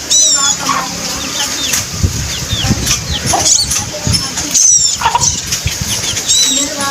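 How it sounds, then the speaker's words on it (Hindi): A chicken flaps its wings in brief bursts amid clucking and high chirping birds, close and fairly loud, with a person talking over part of it. "उसने पंख मारे हैं और टोनी ने भागने की कोशिश की है"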